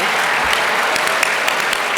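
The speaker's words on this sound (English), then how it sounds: "can we give a big round of applause to Selena?" Dense, continuous applause from a crowd at a charity heroes breakfast, steady and even throughout with scattered sharper claps.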